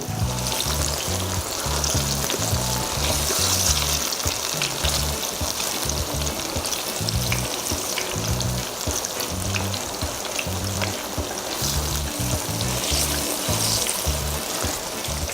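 Plantain slices frying in a pan of oil, a continuous close bubbling sizzle with crackles, steady throughout and heard alone.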